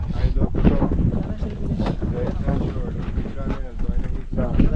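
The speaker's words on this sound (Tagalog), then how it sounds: "napakalakas ang amihan" A strong northeast monsoon wind buffets a small fishing boat at sea, a loud, gusty rumble of wind noise pounding the microphone without pause, with voices faintly mixed in.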